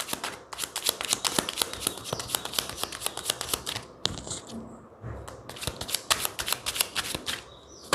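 Tarot cards being shuffled by hand, a close series of rapid riffling flutters and slaps in bursts with a brief pause midway.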